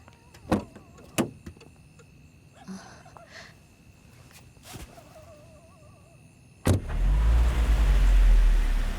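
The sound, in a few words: car being started and moved away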